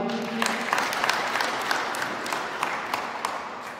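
Wedding guests at an ADEPR church ceremony break into sustained, moderately loud applause, a dense wash of many hands clapping, with a brief voice audible at the start.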